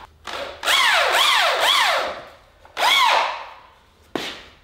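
A power drill drives bugle batten screws down through pre-cut joists on a heavy-duty garage workbench, with three loud whirring bursts that each rise and fall in pitch, separated by short pauses and a final knock.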